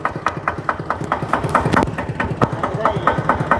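A farm tractor engine runs with a steady, rapid chugging pulse, fairly close, while a voice speaks over it at times.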